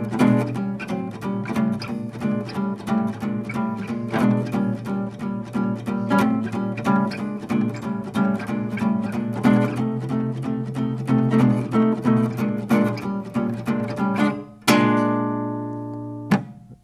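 Guitar comping swing-style rhythm chords over a 12-bar blues: short, evenly spaced muted strums in a steady swing pulse, ending on one ringing chord left to sustain.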